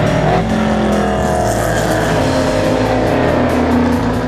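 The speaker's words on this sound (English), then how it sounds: "Mustangs, Camaros, Porsches, Audis, Volvos, and Cadillacs were all out in full performance dress for this weekend of racing." Race cars, including Mustangs, Camaros, Porsches, Audis, Volvos and Cadillacs, roaring loudly around the Belle Isle street course in Detroit, a dense sustained engine blare with a car sweeping close past, no talk.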